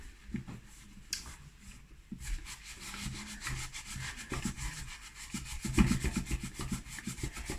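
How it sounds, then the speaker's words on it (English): Scrubbing a stained MioMat that has been coated in cleaning paste, a steady brushy rubbing with irregular strokes that grows louder and busier toward the end, close and alone. "I'm gonna give it a scrub and see if that's shifting"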